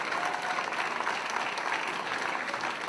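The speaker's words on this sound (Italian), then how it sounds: "con un grandissimo applauso." A concert crowd in Bagnoli del Trigno gives a big round of applause, thick continuous clapping from many people that holds at an even, loud level throughout, with no talking on top.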